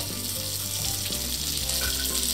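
Vegetables and papdi beans shallow fry in a thin layer of oil for a Maharashtrian Bhogi bhaji, giving a steady, close, even sizzle throughout with no talk.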